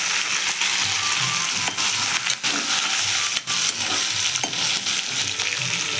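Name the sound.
sautéing onion, green chillies, coriander, curry leaves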